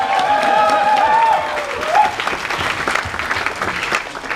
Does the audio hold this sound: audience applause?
yes